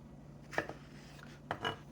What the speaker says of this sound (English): Just slice down. Slice it down again.